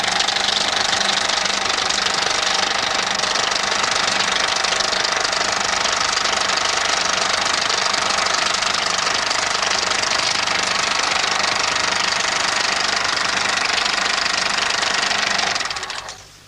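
A motorbike engine runs continuously in a film scene, a loud, steady knocking drone heard alone that cuts off abruptly at the end.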